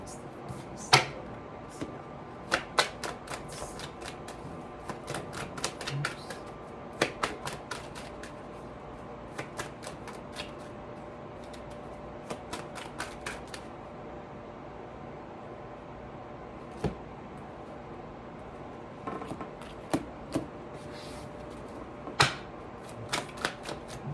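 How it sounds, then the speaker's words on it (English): Tarot cards dealt out one after another onto a surface, a series of crisp, quick slaps and flicks arriving in irregular bursts with short pauses between, close and fairly clear over a quiet background. "I'm gonna get all the cards out"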